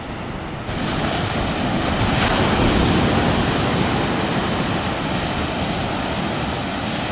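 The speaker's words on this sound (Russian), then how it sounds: "Вон уже как волны облизывают эту дорожку." Sea waves wash over a coastal path at high tide on the Basque coast between Mutriku and Lekeitio, a loud, continuous broadband roar of surf close by, with wind buffeting the microphone and no talk.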